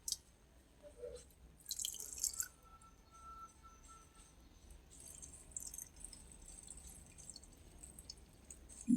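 Water drips and trickles as it is drained off a Shiva lingam in a small home shrine: quiet, scattered splashes and dribbles close by, alone in a hushed room with no voices.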